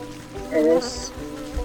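A mosquito in the game Wytchwood gives a brief whining buzz that swells and fades within a second, followed by a short higher chirp over quiet ambience.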